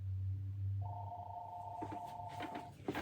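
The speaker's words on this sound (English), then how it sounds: "I hung up the phone and then the phone started ringing again" A telephone rings indoors with a steady electronic tone lasting a couple of seconds, under a low background hum and some faint handling noise.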